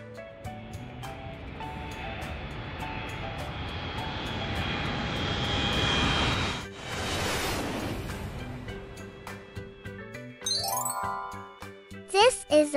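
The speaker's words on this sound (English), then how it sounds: "This is an airplane." An airplane engine roars as it flies, with the sound building steadily to a loud peak and then fading. Children's music chimes over it, and a voice speaks.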